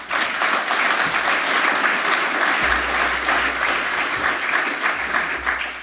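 Sustained applause from an audience following a talk on biodiversity and predator control in Aotearoa, dense and steady throughout with a low rumble underneath.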